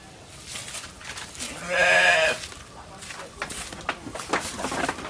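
Goats on a farm bleat a few times, with one strong, drawn-out bleat near the middle and fainter calls and rustling around it, while a person speaks nearby.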